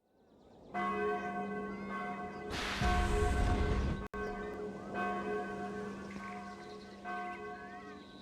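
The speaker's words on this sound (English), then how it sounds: "Hey, Tal, the alarm bells are ringing." Alarm bells ringing in the Xbox game Sudeki, a steady sustained peal of bright tolling tones throughout, with a brief rush of noise partway through and no talking.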